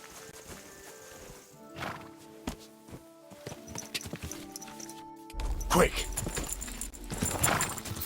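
Horse hooves clip-clop in Kingdom Come Deliverance 2, a steady walking rhythm with an occasional whinny over game ambience and background music, growing louder partway through.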